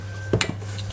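A spoon knocks against a bowl a few times, quick close clinks, while labneh is mixed with oil from sun-dried tomatoes; otherwise quiet with a low steady hum.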